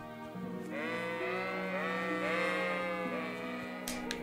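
Sheep in Kingdom Come: Deliverance bleat in a run of wavering, overlapping cries, loud and close, with a faint click near the end.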